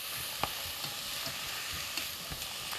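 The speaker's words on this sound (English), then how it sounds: "Give it a stir." Tomato puree is stirred into vegetables frying for minestrone soup with orzo, a steady close sizzle with faint scraping ticks from the spoon, no voices.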